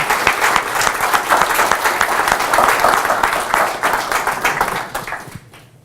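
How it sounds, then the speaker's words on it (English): An audience at an accessibility meetup breaks into loud, dense applause that holds steady, then fades out quickly at the end. "A round of applause, please."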